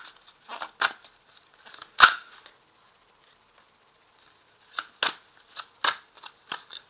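A deck of tarot cards is shuffled up close, crisp riffling bursts with one sharp snap, a quiet gap, then another run of quick flutters.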